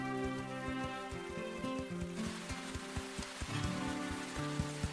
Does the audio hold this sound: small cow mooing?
no